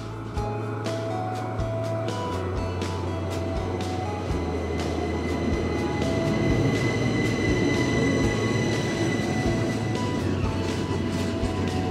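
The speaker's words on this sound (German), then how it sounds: "Nachdem wir zum Bahnhof Sachseln wanderten, fuhren wir pünktlich mit dem Luzern-Interlaken-Express ab." The Luzern-Interlaken-Express train pulls out of Sachseln station with a steady rolling rumble, clacking wheels and faint squeals, growing slightly louder as it gets under way, with no talk.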